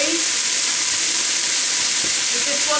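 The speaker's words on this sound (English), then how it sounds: "So I'm just going to keep frying these now" Refried beans fry in a saucepan with a loud, constant, close sizzle, and faint stirring scrapes break through now and then.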